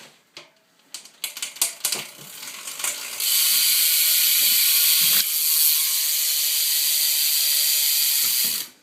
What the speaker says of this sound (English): I'm going to do a sound check on this hub.